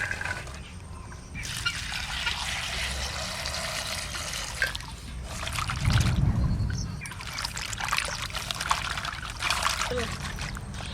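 Kochur loti (taro stolons) rinsed in water, splashing and trickling sounds close by, steady with a louder swish midway, under a voice talking.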